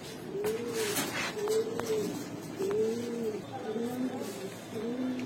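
Pigeons cooing at a pigeon seller's, a repeated series of soft, low, rolling coos close by, about six or seven calls in rhythm, with background chatter faintly underneath.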